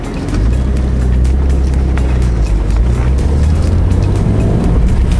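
A BMW M3 E46 with a manual gearbox pulls away in first gear, its engine note steady and loud up close as the car moves off, with continuous low rumble and no talking.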